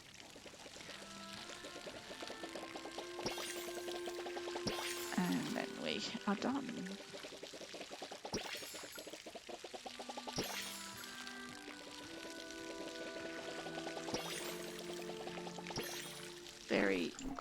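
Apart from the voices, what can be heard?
watering crops in the video game Palia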